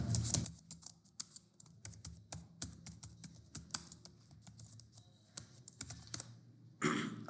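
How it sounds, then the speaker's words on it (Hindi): Fingers type on a computer keyboard into a design app's search box, a brisk irregular run of close key clicks with short pauses and a louder burst near the end, with no talk. "यहाँ आप लिखें यूट्यूब थंबनेल डिज़ाइन"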